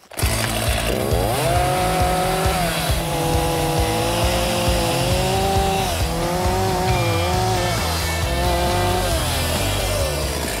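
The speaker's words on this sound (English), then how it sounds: "probably a chainsaw" A chainsaw notches timber corners for a high lakeside dock, its engine running loud and continuous close by, the whining pitch rising and dipping as the blade bites and eases through the wood.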